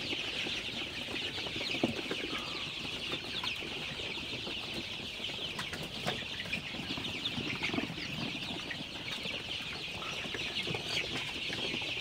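About 25-day-old Sonali super hybrid chicks cluck and peep steadily on a farm, with scattered calls layered over a constant high-pitched background hiss throughout.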